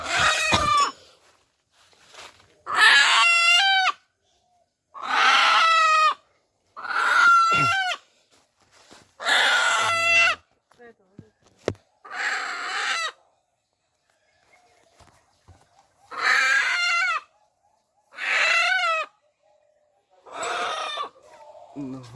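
Roosters crow repeatedly and hens cluck in a farmyard, with loud crows recurring every couple of seconds, close by and alone, with no talk over them.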